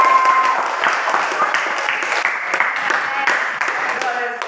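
Classroom students clapping for a group after its score is announced, a dense patter of hands that continues for several seconds, with voices mixed in over the clapping.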